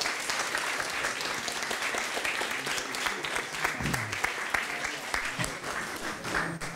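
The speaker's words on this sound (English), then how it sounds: "People are clapping now" Audience clapping after a conference talk on thinking fast and slow, a sustained round of applause with crisp individual claps standing out and faint murmurs under it.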